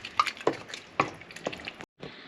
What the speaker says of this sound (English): Stir it in very nicely.